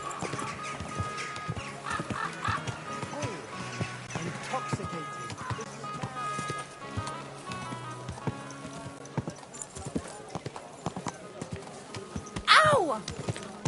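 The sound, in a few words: horse galloping and whinnying in a video game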